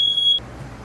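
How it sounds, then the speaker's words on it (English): A loud, piercing high-pitched smoke alarm beep sounds once and cuts off, leaving low background noise. "We set the fire alarms off."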